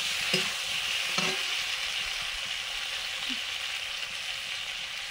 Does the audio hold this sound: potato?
yes